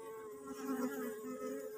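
Stingless bees near their nest make a continuous, faint, wavering buzz, with no voices over it.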